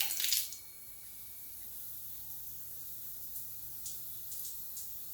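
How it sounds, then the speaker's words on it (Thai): A water tap is shut off on a repaired PVC pipe: a short burst of spraying water at the start cuts away quickly, leaving a faint steady hiss with a few soft ticks and no speech. "เราก็ปิดก๊อกน้ำเราได้เลย ปิดเลย"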